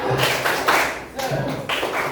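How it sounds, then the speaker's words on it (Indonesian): A class of students claps a rhythmic spirit pattern, groups of quick hand claps in short bursts separated by brief pauses, fairly close and loud with some voices mixed in. "Coba tepuk semangat."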